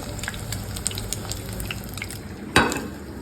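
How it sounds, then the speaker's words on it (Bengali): Steady sizzling and crackle of an egg frying in hot oil, with a sharper clatter near the end, close and fairly quiet. "ডিমটা ভাজছি"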